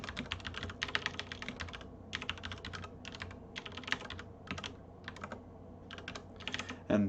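Rapid clattering keystrokes on a computer keyboard come in close, uneven bursts separated by short pauses, steady and moderately quiet with no voices.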